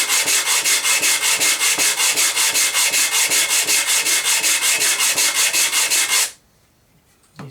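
Wooden heel block being sanded with sandpaper wrapped around a smooth block, rapid rhythmic rasping strokes, about four per second, loud and close, stopping abruptly near the end before a faint knock.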